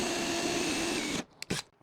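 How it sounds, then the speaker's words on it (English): A power drill bores a 7/16 inch hole in a wooden cornhole board, running loud and steady at close range before it cuts off abruptly, followed by two short bursts. "I'm just going to drill, I don't know, 7/16 hole."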